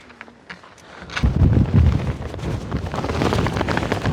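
Strong wind buffets the microphone on a mountain summit in Guatemala, starting faintly and then roaring loud and gusty through the rest, a continuous rumbling blast with no voices.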